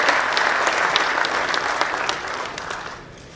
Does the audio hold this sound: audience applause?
yes